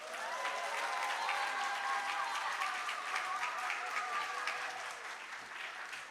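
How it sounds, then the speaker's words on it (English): Audience applauding a student at a junior school graduation ceremony, a steady, even patter of many hands from a distance, fairly faint and tapering slightly at the end. "A round of applause again for Kai."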